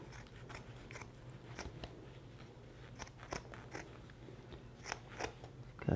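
Soundproof wall panel material being cut through, a dense run of crisp snipping and crunching strokes at close range, irregular in rhythm and building to louder cuts near the end, with no talking.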